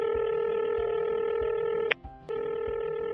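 Telephone dialing tones, a steady sequence of beeps broken by a brief pause and a couple of clicks, clear and close with no voices.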